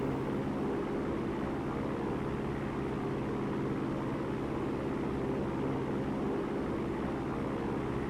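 A simulated Piper Cherokee PA140 light aircraft engine in X-Plane 11 drones in a steady, unbroken propeller hum, constant in loudness from start to finish with no talk.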